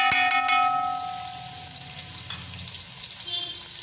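Ginger and garlic frying in a pan with browned onions for chicken pilau, a steady close sizzle with a few clinks of stirring at the start, holding evenly throughout.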